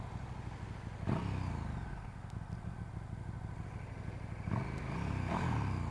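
A 2017 KTM 1290 Super Duke R motorcycle with its stock exhaust idles and burbles steadily at close range, with two short throttle blips rising above the rumble.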